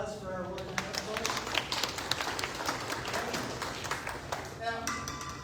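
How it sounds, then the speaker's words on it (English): A zoo presentation audience gives a quiet round of clapping for the boys playing woolly mammoth hunters, faint, uneven claps sounding under nearby talk and fading within a few seconds. "A little round of applause for our woolly mammoth boys"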